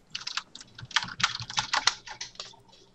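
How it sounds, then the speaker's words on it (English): Rapid typing on a computer keyboard, with dense clusters of close, crisp keystrokes in an uneven rhythm that taper off near the end, heard alone without talk. "Matt just typing some smack"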